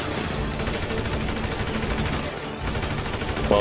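Rapid gunfire and bursts of automatic weapons crackle continuously in the video game Grand Theft Auto V, with dense overlapping shots and no speech.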